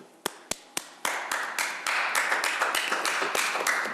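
Applause at a village board meeting starts as a few sharp isolated claps, then thickens into steady, moderately loud clapping from a small indoor crowd.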